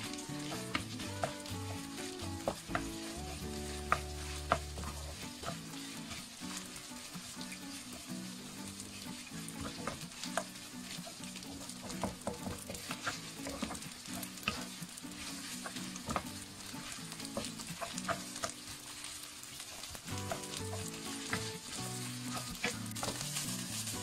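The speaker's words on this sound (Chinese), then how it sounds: "快速的翻炒" Cooked rice tossed in melted lard over high heat, a soft continuous sizzle with frequent quick scraping and clattering of the spatula against the wok, no voices.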